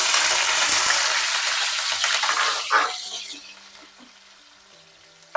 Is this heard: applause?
no